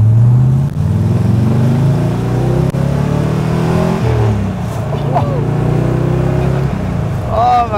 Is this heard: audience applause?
no